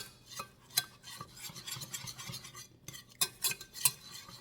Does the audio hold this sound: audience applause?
no